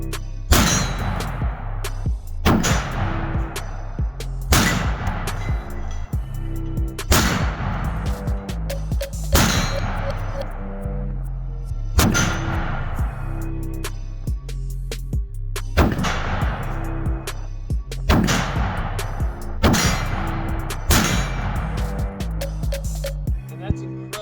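Loud rifle shots from a Century Arms Romanian PSL at an outdoor range, about ten sharp reports at regular intervals, each with a long echoing tail.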